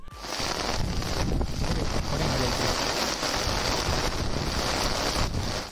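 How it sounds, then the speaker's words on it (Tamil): Heavy rain pours at a campsite in Kodaikanal, a dense, constant hiss that fills the whole stretch with little change in loudness. "மழை ஸ்டார்ட் ஆகிடுச்சு"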